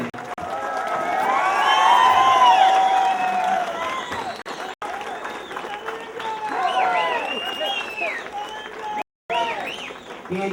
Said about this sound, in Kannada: ಚಪ್ಪಾಳೆ ಬಂಧುಗಳೇ.